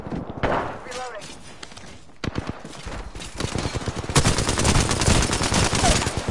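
Rapid automatic gunfire bursts in the game Apex Legends, loud and close, starting with scattered shots and building into dense sustained firing with in-game voice callouts over it.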